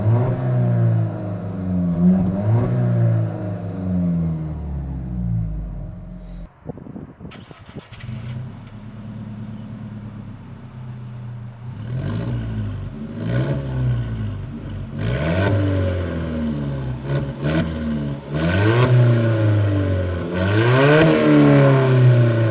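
An Alfa Romeo 4C sports car engine revs hard again and again, the pitch climbing and falling in loud, close sweeps, with a short clattery pause before it winds up again. No one speaks.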